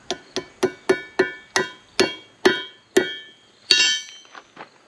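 Hammer blows fitting a painted modular fence piece onto a barn overhang frame: about nine sharp, ringing wooden strikes in a steady rhythm, a louder, brighter hit near the end, then a few lighter taps, close up and alone.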